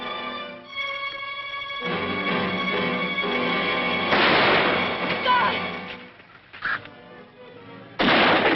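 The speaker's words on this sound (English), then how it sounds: "Tell the boys to wait until I fire." Gunfire from a 1957 western shootout set in old California, with a dense, continuous volley of shots that swells and holds, dips briefly, then bursts back loudly, with voices faintly mixed in.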